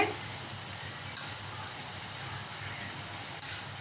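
Sweet wheat flour gavvalu frying in hot oil, giving a steady close sizzle and hiss throughout, with two brief sharp crackles as more pieces drop in or the oil spits.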